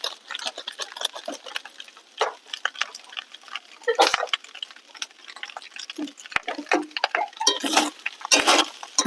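A spoon stirs chicken polao with garam masala in a pot, giving irregular close scrapes, clinks and wet shuffling strokes at moderate volume with pauses between, and no voices.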